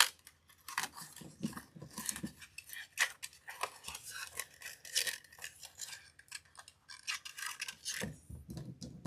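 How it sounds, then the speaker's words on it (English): Cheap Dollar Tree scissors snipping while making a floral grapevine wreath, irregular small clicks and snips mixed with rustling of stems and ribbon, close and fairly quiet. "Dollar Tree scissors for the win."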